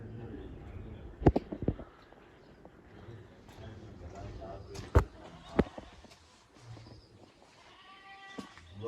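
Several harsh, bleating calls from mynah birds rise over a noisy room with people talking, capped by a string of squawky, harmonic cries near the end.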